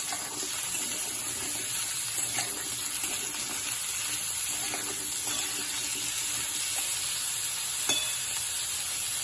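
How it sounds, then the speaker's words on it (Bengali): Potatoes sizzling in a pan of hot oil as they are stirred, a steady bright hiss throughout with a few faint scrapes and taps. "আলুগুলো দিয়ে একটু নাড়িয়ে দিই।"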